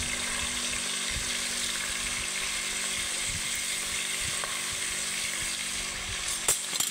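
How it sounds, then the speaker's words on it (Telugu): Green chillies and tomatoes fry in a pan, making a steady, close and fairly loud sizzle that holds constant with a few faint clicks of stirring and no talking. "కొద్దిగా ఫ్రై చేసుకున్నాం."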